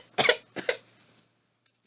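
A voice performs two or three short, sharp coughs for a cartoon flea in an old barn, close and dry, followed by quiet with faint noises at the end.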